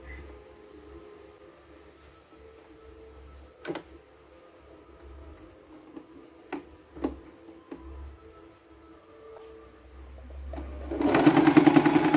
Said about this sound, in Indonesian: Seperti ini kita jahit.